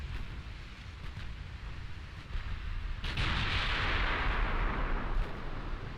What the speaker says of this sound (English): those 20-inch guns are devastating